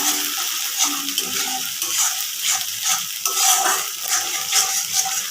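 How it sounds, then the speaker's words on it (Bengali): Onion, garlic and dried chillies with a cumin and dry-chilli paste fry in a pan, giving a bright steady sizzle broken by repeated scraping stirs of a spatula against the metal, with no talking. "ভালো করে কষিয়ে নিচ্ছি"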